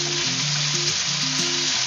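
Onion frying in a pan for Filipino pork adobo, a steady close sizzle running without pause, with a low-pitched tone stepping up and down beneath it throughout.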